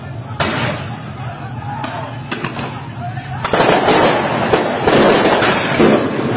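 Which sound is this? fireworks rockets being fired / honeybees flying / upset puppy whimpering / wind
fireworks rockets being fired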